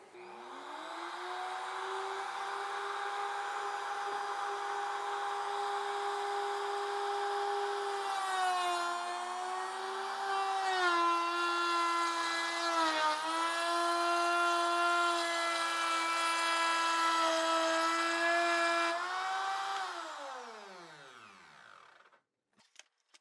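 Mini router plunge-cutting flutes into a wooden workpiece with a fluting jig: a steady high-pitched motor whine with shifting tone as the bit cuts, running continuously for about twenty seconds before spinning down, loud and close with no talk.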